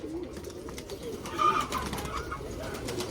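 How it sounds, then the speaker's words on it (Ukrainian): A red domestic pigeon coos softly nearby, its brief low call rising once midway amid a murmuring backdrop of other birds in a loft. "Так, ось красна голубка."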